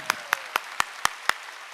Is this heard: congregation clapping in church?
yes